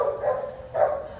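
A dog at the San Bernardino City animal shelter gives two short, close barks in quick succession, with no talk.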